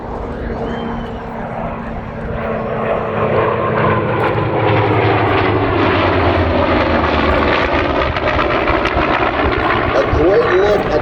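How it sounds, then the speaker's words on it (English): An F4U-7 Corsair propeller fighter flies in formation with an F-18 Super Hornet at an air show, a loud rising roar of engines building and sustained overhead with no voices. "You'll see Mike Oliver leading in a very, very rare F4U Corsair, the -7 model"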